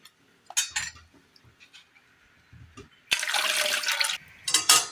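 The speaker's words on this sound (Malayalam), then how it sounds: "ഒരൽപ്പം വെള്ളം കൂടി ചേർത്ത് കൊടുക്കാം." Water is poured into a wheat flour mixture in a kitchen, a loud splashing stream of about a second after a few soft clinks of a utensil, followed by another short pour.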